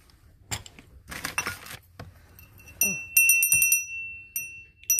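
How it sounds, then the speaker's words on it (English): A crystal bell rings several times in bright, clear chimes with lingering high overtones, following some handling noise and rustling during an unboxing of auction items. "Sounds like a crystal bell."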